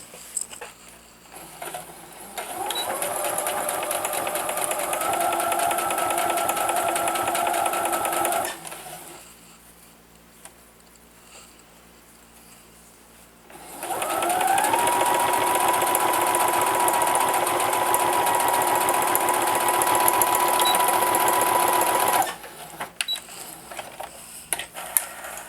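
A sewing machine stitches a scalloped fabric wallet in two long, loud, steady runs with a quiet pause between, followed by a few lighter handling clicks at the end.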